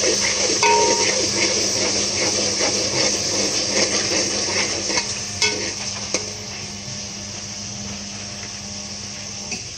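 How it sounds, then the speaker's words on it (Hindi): Green chilli paste with crushed garlic and ginger fries in hot oil, giving a steady close sizzle that lasts throughout, with occasional scrapes and taps of a spoon against the pan and no talking. "अब इसमें मैं हरी मिर्च का पेस्ट और पिसा हुआ लहसुन अदरक शामिल करूँगी, और इसको अच्छी तरह पकाऊँगी।"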